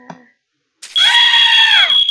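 A synthetic scream sound effect plays in a blood-typing simulation, a single loud, shrill, sustained cry lasting about a second after a short faint blip.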